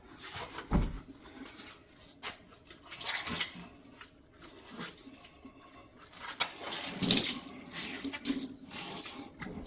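Running tap water splashes over a wild black rockfish from Heukdo and cotton work gloves being washed, a continuous rushing stream broken by louder surges and splattering as hands move under the flow.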